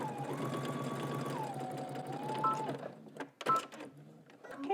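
A sewing machine back-stitching and then stitching closed a drawstring casing runs in one steady, whirring stretch that shifts pitch midway, then stops and gives way to a few quick clicks and handling knocks.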